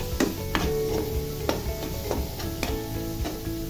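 Chopped onion and green chillies frying in a pan while being stirred, repeated scraping strokes of a spoon over a steady sizzle, close and with no talk, a faint hum underneath.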